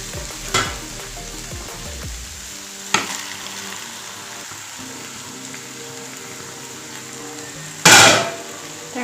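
Ginger and garlic frying in a pan for a mixed vegetable gravy, a steady close sizzle broken by several sharp scrapes and stirs of a spoon against the pan.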